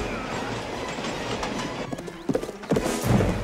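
Horses galloping alongside a steam train in a Western-set film scene, rapid hoofbeats and clatter rising over rumbling rail noise, with a whinny in the mix.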